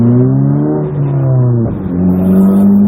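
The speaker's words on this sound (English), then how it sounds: "car's running pretty strong" A 5-speed manual Mazda 3 engine pulls hard while driving, its loud tone rising through a gear, dipping briefly at a shift, then climbing again, heard close from inside the car.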